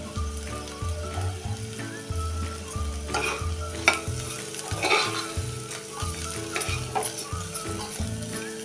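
Crushed coriander, dry coconut and garlic sautéing in a pan for a bitter gourd dish, a constant sizzle broken by rhythmic spatula scrapes and stirring knocks, close and clear without voices.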